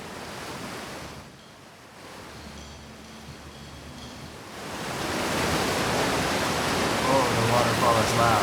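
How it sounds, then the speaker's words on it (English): Loud waterfall roar in the video game Outer Wilds, a dense rushing wash of noise that dips briefly and then swells louder and fuller, with faint game sounds underneath. "the waterfall is loud"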